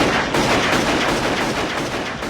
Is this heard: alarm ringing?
no